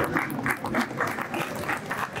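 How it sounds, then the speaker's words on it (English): Audience clapping at a hospital anniversary award ceremony as a trophy is presented, dense and steady with some cheering mixed in. "The claps should be louder,"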